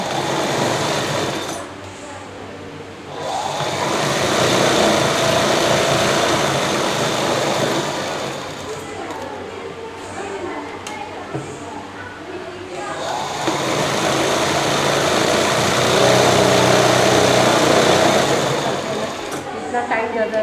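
A sewing machine runs loud and close while stitching a dress at a fashion tailoring class, in long steady bursts broken by short pauses, with someone talking over it.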